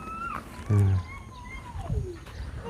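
A cat meows several times up close, drawn-out rising and falling cries over a quiet room background.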